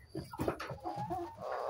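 Roosters cluck close by in short, uneven bursts of throaty calls on a poultry farm, fairly loud, with no talking over them.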